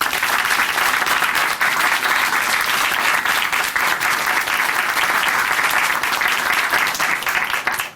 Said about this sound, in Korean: 우리 장유라 자매님께 다시 한번 박수 보내드릴게요.